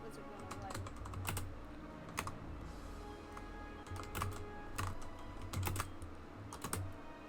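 Rapid keystrokes on a computer keyboard come in clustered bursts with short pauses, fairly close and moderately loud over a constant low hum.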